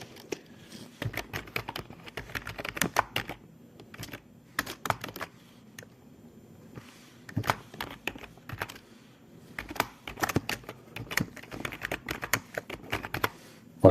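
Code comments being typed on a computer keyboard for bare-metal programming, with close, crisp clusters of key clicks coming in irregular bursts separated by short pauses and no voices.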